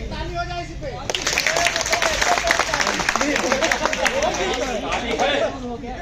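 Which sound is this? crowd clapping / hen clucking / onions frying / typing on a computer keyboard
crowd clapping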